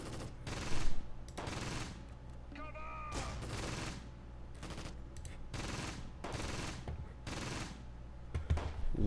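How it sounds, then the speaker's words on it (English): Rapid bursts of small-arms and tank gunfire crackle in repeated volleys in the WWII tactical video game Close Combat Gateway to Caen, loud and regular with short gaps between bursts, under a voice talking. "Lot of shots being exchanged here"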